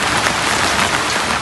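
Steady, dense rain pours down on a flooded village in Fulgazi, Bangladesh, a close, even hiss of drops striking water and surfaces that continues unbroken throughout.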